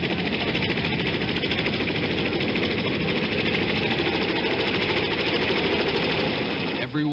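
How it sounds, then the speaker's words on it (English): Helicopters shuttle evacuees out to aircraft carriers offshore, their rotors and engines making a dense, steady, loud chopping drone that continues without a break, with no other sound standing out. "More than 80 helicopters shuttling people out to the carriers"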